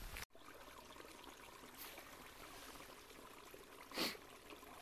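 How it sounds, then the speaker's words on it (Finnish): A small brook babbles into lake Mulkkujärvi as a soft, steady trickle, faint and continuous, with one sharp knock near the start and a brief louder splash later. "Mulkkujärveen laskee tässä pieni puro, kuulette solinan"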